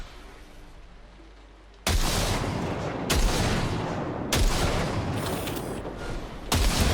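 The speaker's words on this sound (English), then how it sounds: "Fire a short burst into it." Short bursts of automatic gunfire from Cyberpunk 2077, shot into a pile of junk. Loud, rapid fusillades come in three or four close blasts over a low mechanical hum, with no talking.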